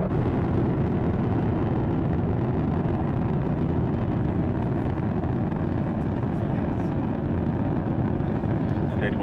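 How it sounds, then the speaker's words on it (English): SpaceX Falcon 9 rocket engines during launch ascent produce a steady, dense, rumbling roar that fills the whole clip without a break, while a commentator talks over it. "you are watching a live view of the Falcon 9 rocket"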